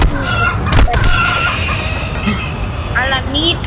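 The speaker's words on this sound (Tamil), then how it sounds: "கோழி" Chicken clucking and a rooster crowing inside a monster video game, loud and close with overlapping calls, and a voice talking faintly in the background.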